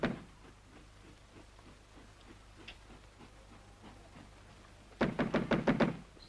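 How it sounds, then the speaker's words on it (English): Sharp knocks rapped on a door, about six quick, loud raps in a burst near the end after a quiet stretch with faint rhythmic background chugging, in a 1940s British setting. "It's no use knocking."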